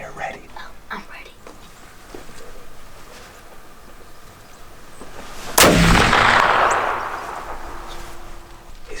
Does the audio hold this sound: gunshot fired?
yes